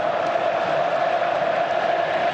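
A football stadium crowd at the 2023 Copa do Brasil final, a broad continuous roar of cheering and massed singing, dense and steady from far across the stands.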